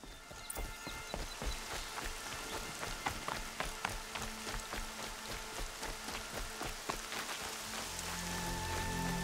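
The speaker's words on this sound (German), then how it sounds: "das regnet ja schon wieder wie aus Eimern" Heavy rain pours steadily in the video game Horizon Zero Dawn, a dense, continuous hiss of drops on surfaces heard alone with no talk, building slightly louder toward the end.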